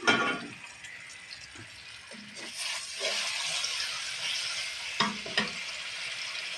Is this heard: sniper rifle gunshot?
no